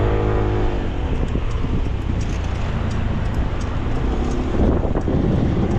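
A second-hand SYM Jet-X 125 scooter being ridden, its engine drone blended with steady, loud wind rush over the microphone, continuous for the whole stretch with no talking.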